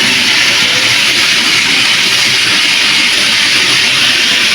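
Potato pieces frying in a pan with turmeric and salt, a loud, steady, dense sizzling hiss that fills the whole stretch without pause, close up and with no talking over it.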